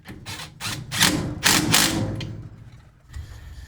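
An impact wrench working on a Samsung dryer motor, a series of close, rattling hammering bursts that run together, then fade to quieter mechanical clatter.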